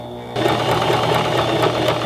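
Domestic sewing machine stitching fabric, starting abruptly and running as a steady, fast mechanical whir with a rapid needle patter, close and continuous with no talking.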